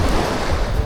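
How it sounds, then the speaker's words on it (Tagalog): Steady roar of surf washing in at Puka Beach, Boracay, with wind buffeting the microphone; continuous and fairly loud, no voices. "Pero mas malakas alon dito"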